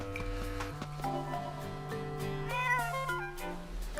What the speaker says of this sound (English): Another kitty cat over by the fish.